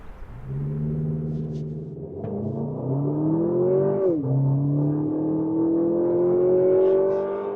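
A 2025 Lexus TX 350 F Sport SUV accelerates hard, its engine note climbing steadily in pitch, dipping briefly at a gear change, then rising again as a loud, continuous drone heard from inside the cabin.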